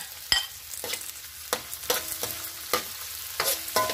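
Garlic fries in a pan for pininyahang kangkong with bagoong, giving a soft, steady sizzle. Sharp scrapes and clacks of stirring cut in every half second or so, close and with no voices.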